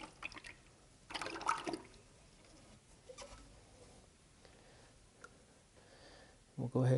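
A gallon of epoxy part A is poured into a mixing container, giving a thick glugging splash in bursts with brief gurgles and clicks, under intermittent quiet talk.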